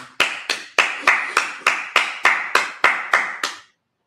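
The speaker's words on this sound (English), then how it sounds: "Clap it up." Eleven sharp, evenly spaced hand claps at a Sabbath service, in a steady rhythm, loud and close, each ringing briefly before the next, then silence.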